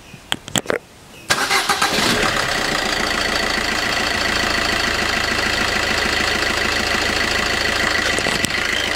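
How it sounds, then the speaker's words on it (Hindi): A diesel car with freshly replaced glow plugs cranks briefly in a few quick bursts, fires up promptly and settles into a steady, loud, slightly knocking idle that runs on to the end. "अभी हम कार स्टार्ट करके देखते हैं।"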